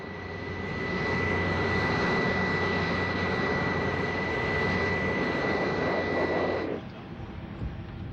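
The Bell X-14, an experimental vertical-takeoff jet aircraft, gives a steady, loud engine roar with a high whine running through it. The roar holds evenly, then drops off abruptly near the end.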